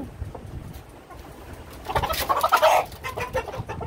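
Egyptian Fayoumi chickens in a small flock with a rooster give a short burst of clucking and squawks midway, fairly close, over low background noise with no talk.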